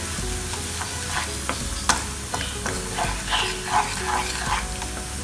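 Baby shrimps sizzle in sambal over a very low flame, a steady frying hiss broken by scattered clicks and scrapes as the mixture is stirred close up.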